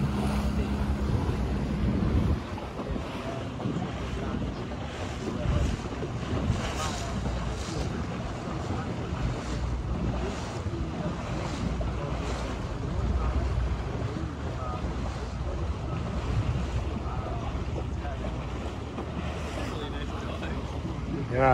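Water taxi boats pass by on open water, a steady low engine rumble blended with wind buffeting and the wash of waves, continuous throughout.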